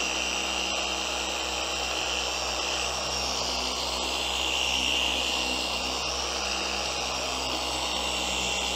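A cheap Walmart $70 electric polisher spins a $7 polishing pad on a workpiece, a steady close whirring motor drone with a slight rise mid-way as pressure is applied, no talk.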